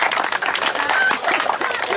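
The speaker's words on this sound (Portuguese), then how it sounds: "Uma salva de palmas para o Augusto" Applause breaks out for an award at the closing ceremony of a football cup, a short burst of crowd clapping under an overlapping voice.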